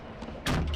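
A door at an airport swings open with a quick clunk and rush of air near the end, after a brief stretch of quiet room noise.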